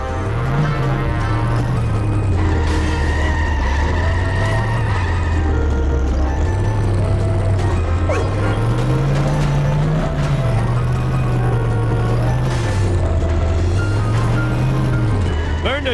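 Car driving in The Simpsons Hit & Run video game, a steady engine drone whose pitch rises and falls as the car speeds up and slows, loud and continuous under game music and a character's speech.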